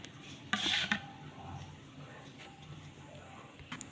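Cake batter ingredients mixed together in a bowl, a short burst of scraping and clinking utensil noise near the start followed by quieter, faint stirring sounds.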